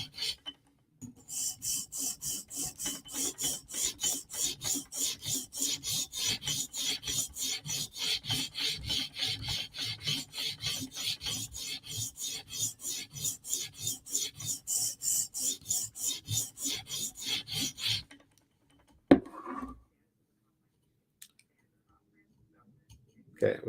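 A Chris Reeve Sebenza knife blade is drawn across a coarse 150-grit stone on a TSProf Kadet sharpener in quick, even rasping strokes, dozens in a steady back-and-forth rhythm, close and crisp, ending abruptly before a few soft handling clicks.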